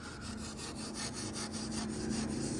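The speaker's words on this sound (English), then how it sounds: "we got some #1 steel wool, and this case is aluminum, so it's okay to leave it bare metal" An aluminum case on a Hummer H1 being scrubbed with #1 steel wool to clear away gunk, a soft, steady rhythmic rasping of quick back-and-forth strokes, close but fairly quiet with no talking.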